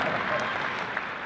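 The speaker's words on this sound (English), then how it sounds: "Give the man applause." A convention audience at a Star Wars Celebration panel claps steadily, a dense wash of applause that stays level, heard fairly close.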